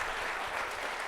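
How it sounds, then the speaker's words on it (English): Audience applause at a live debate event in Michigan, a steady dense wash of many hands clapping close and loud, without a break for the whole short stretch. "Everyone, big round of applause."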